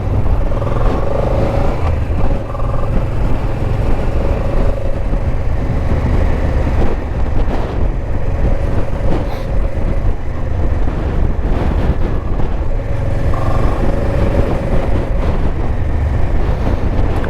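Honda Transalp motorcycle riding on a coastal road in north-western Sardinia, with a steady loud engine drone and heavy wind rush continuing throughout, no talking.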